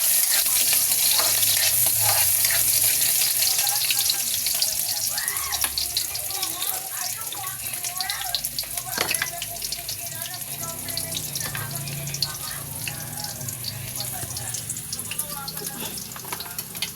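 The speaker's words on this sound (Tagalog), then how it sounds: "Igigisa natin dito sa kalan." Chicken and bottle gourd sautéing on a stovetop, a steady broadband sizzle with stirring scrapes and some watery splashing, continuous and fairly close.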